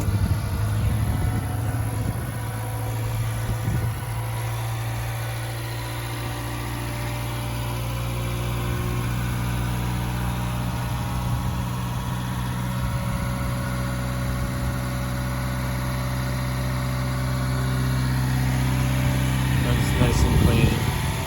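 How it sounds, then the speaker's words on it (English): A car engine settles into a steady low idle after a little throttle, a continuous deep hum with a brief rise toward the end; a person talks over it at times. "I give it a little gas, that's just something I do."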